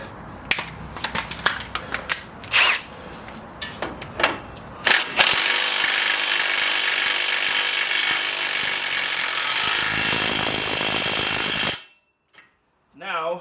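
A battery impact wrench with a 21 mm socket runs in one long sustained burst, tightening the front strut nut on a 2014–2020 Ford F-150. Scattered clicks and knocks come before it, and the sound cuts off sharply, leaving near silence.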